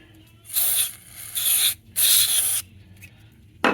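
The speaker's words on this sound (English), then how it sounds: "We need to make sure and clean all those surfaces, so I've got my deoxit fader lube." Three bursts of DeoxIT fader lube from an aerosol can sprayed into the volume controls of a large solid-state Packard Bell stereo, each hiss lasting under a second, close and fairly loud, followed by a short click.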